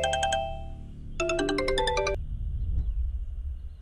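Phone ringtone in a Telugu thriller film, two bursts of bright electronic melody tones with a pause between, over a low rumbling background score that swells as the ringing stops.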